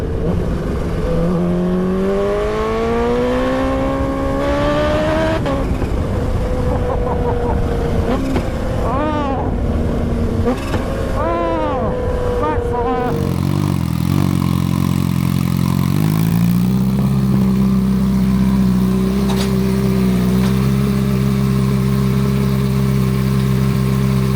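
A Kawasaki Ninja H2 motorcycle engine revs up and down nearby to about 6,000 rpm, rising and falling in pitch, then settles into a loud, rumbling idle, with the exhaust baffle fitted.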